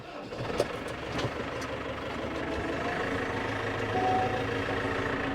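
An engine on a farm starts and settles into a steady rumbling idle to warm up, heard close with a few light knocks early on and a constant low drone throughout.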